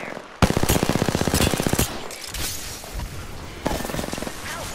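Apex Legends gunfire: a loud, fast automatic burst opens the fight, scattered shots follow, then a second shorter burst near the end.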